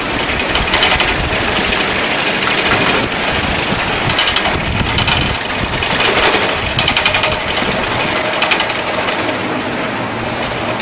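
A wind turbine spinning out of control with loose bolts, giving a loud, continuous rapid clattering and mechanical roar that fills the whole stretch without pause.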